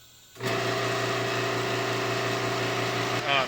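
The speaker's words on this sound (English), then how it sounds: "the air compressor keeps turning on because it's not a very expensive air compressor" An inexpensive air compressor kicks on and runs with a loud, steady motor drone and hum, close by, then cuts off near the end.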